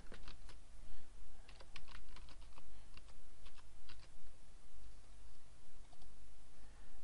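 Quick bursts of clicky keystrokes on a computer keyboard enter a WordPress.com username, uneven rhythm with short pauses, close and fairly quiet over a faint steady hum.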